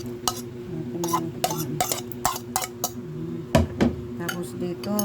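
Tomato is stirred into eggs in a pan for an omelet, with a utensil clinking and scraping against the pan in irregular taps, and a voice talking faintly underneath.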